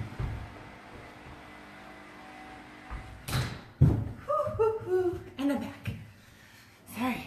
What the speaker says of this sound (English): Oh, I might have to shut my front door.